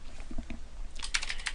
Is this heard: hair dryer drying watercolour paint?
no